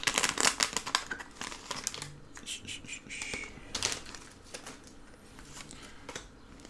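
A Pokémon booster pack wrapper torn open from the other side: close, crisp foil crinkling and tearing in quick bursts, tapering to softer rustles, no talk.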